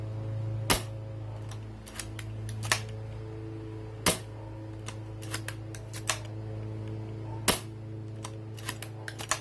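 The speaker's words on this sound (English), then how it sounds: "see if the gun still shoots straight, shooting at a palm tree" Gel blaster gun with an upgraded barrel shooting at a palm tree, a series of sharp, snappy pops at irregular intervals, some louder and some fainter, over a steady low hum.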